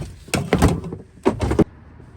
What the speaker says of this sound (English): Knock the panel back out of the way.